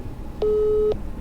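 A cell phone call hits a busy signal: one steady, clear electronic tone about half a second long that starts and stops sharply, heard alone over a faint low background hum.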